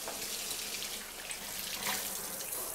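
Water running steadily from a tap or hose as a dog is rinsed during a bath at a groomer's, a continuous broadband hiss and splash with no talking.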